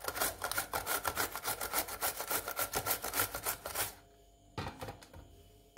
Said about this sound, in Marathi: आपण आता काकड्या किसून घेणार आहोत.